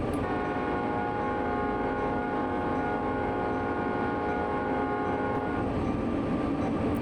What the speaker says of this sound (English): The train's probably cresting over now.